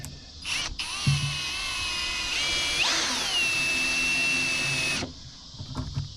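A power drill drives small-head Torx screws into Cumaru Brazilian hardwood decking, with a steady high motor whine that rises in pitch midway and a soft clicking start, close and alone, then stops abruptly.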